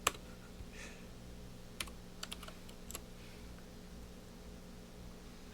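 Keys on a laptop keyboard without a numpad are pressed in a few sparse clicks and short bursts of typing, quiet and close over a low steady hum.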